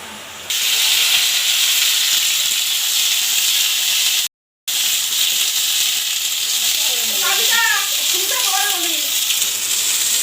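Capsicum and onion sizzle in hot oil with ginger and garlic, a loud, steady hiss that runs the whole time apart from one short break, with faint voices near the end.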